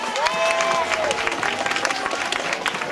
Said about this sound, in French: On applaudit le deuxième.